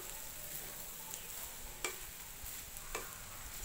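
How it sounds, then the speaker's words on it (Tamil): Cooked rice is stirred into egg fried rice in a hot pan, with a constant close sizzle and occasional scraping strokes of a spatula against the pan. "இப்போ இதில் சாப்பாட்டை கலந்துக்கலாம். இதை நல்லா மிக்ஸ் பண்ணிக்கலாம்."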